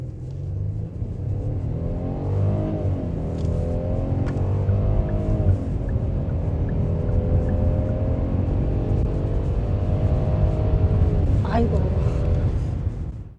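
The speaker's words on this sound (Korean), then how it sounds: "차의 가속 느낌을 살펴보겠습니다" 2021 Kia K9 Platinum with a 3.8 AWD engine accelerating, its tone rising through several smooth gear steps under steady road and cabin rumble, moderately loud and close from inside the car.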